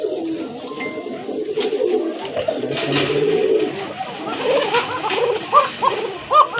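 A big male pigeon coos in a series of soft, throaty calls that swell toward the end, with faint chinks and background noise around it.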